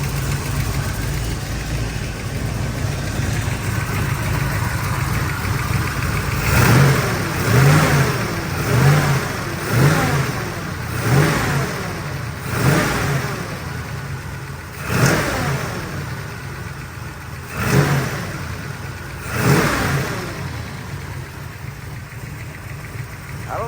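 A car engine idles steadily in a shop, then revs in about eight short, evenly spaced bursts; a suspected lifter or rocker arm fault gives a ticking, knocking edge under each rise and fall.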